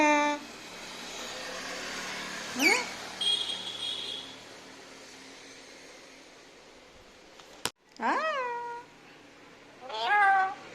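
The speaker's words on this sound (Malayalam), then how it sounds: "മിയോ മിയോ പൂച്ച" A cat meows several times, with a few distinct rising-and-falling cries spaced apart, close by, over faint background noise and some indistinct voice.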